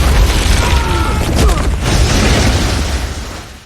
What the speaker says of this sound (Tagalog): Isang Russian fighter ang nagpaputok ng rocket-propelled grenade na nagdulot ng malakas na pagsabog